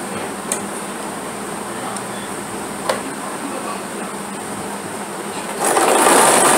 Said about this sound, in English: So I'm going to do some hemming right now.